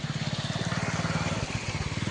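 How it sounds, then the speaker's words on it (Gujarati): A motorcycle riding through a river crossing, its engine thudding in a fast, steady pulsing rhythm close by and loud throughout, with rushing water noise underneath. "જો બાઇક પણ જાય છે."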